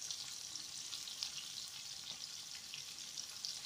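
Beef strips sizzle steadily in a hot pan as they are stirred, a continuous, fairly quiet frying hiss with light scraping and no voices.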